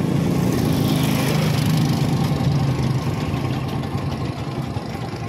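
A motorcycle engine idles steadily in traffic on a road near a bridge, a continuous close-up rumble with no talking.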